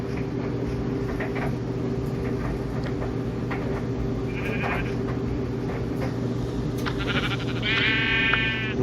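Sheep bleat in the video game Minecraft, with a few short bleats over a steady droning game background. A final bleat is louder and more tonal.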